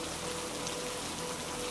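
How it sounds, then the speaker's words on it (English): Steady rain falls onto the ground and puddles, an even, soft hiss of many drops that holds at a constant level with no voices. "watch the way the rain falls through the air"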